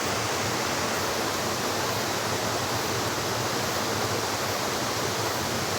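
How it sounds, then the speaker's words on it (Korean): A mountain valley stream rushes steadily, a dense unbroken wash of flowing water that stays loud and even throughout with no voices. "시원하게 계곡 보여드릴게요"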